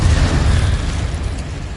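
A short, heavy fiery blast from an Incendio fire spell in Hogwarts Legacy, a loud low boom that fades into a rushing roar with no voices.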